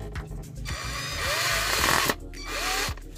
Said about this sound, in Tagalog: Ayun, butasan na, ha. Tapos lagyan natin ng screw.